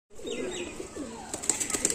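Pigeons at a market for fancy breeds, with close wing flaps and soft rustling, then a burst of sharp high chirps and scuffling toward the end.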